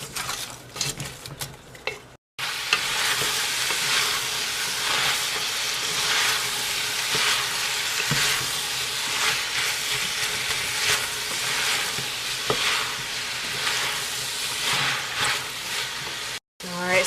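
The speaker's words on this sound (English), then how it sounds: "Now we're going to cook these up until they are nice and caramelized." Sliced onions fry and caramelize in a pan for French onion soup, a steady broadband sizzle and hiss running nearly unbroken, with brief stirring scrapes and one short gap early on.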